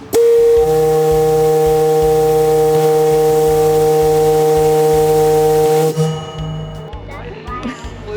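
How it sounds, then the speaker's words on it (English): A steam-powered lighthouse foghorn on Mackinac Island blasts loud and close in one long sustained tone of about six seconds, then cuts off, leaving crowd chatter and voices. "Steam boilers powered the foghorn that was used to warn ships when the lighthouse wasn't visible."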